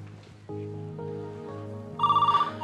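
A telephone rings in a Marathi TV serial scene, a rapid trilling bell that starts near the end after a soft sustained musical tone, fairly loud and with no talk over it.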